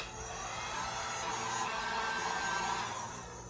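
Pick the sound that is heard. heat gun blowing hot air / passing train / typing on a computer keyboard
heat gun blowing hot air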